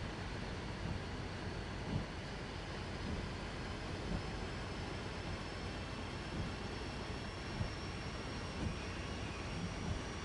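A train engine spools up in Train Sim World 2, a steady broad rumbling drone with a faint rising whine, continuous and fairly loud, with a few soft knocks and no talk.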